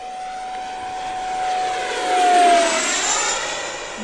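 FMS F-86 Sabre 80mm electric ducted-fan RC jet making a fast low pass, its whine rising as it approaches, peaking loudly mid-clip, then receding with a shifting pitch, heard alone outdoors.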